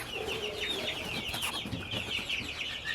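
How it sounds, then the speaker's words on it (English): A broody hen clucks continuously in low, throaty murmurs, close by in a nesting box, with other chicken sounds faintly behind. "We have a broody hen."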